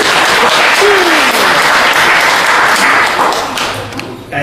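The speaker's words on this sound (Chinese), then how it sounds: "感谢你们掌声" A theatre audience at a Deyun Society crosstalk show applauds a solo comic performer, a loud, dense, steady wash of clapping close around that fades toward the end, with no talking over it.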